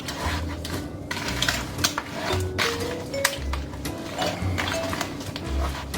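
Seasoning is stirred into a pot of brown turkey stew, with irregular scraping, clinking and knocking of a utensil against the pot, fairly close and continuous.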